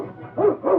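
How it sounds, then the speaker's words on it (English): A dog barks twice in a radio drama, two loud, close, separate woofs about a third of a second apart over a low background hum. "It was Arizona's dog."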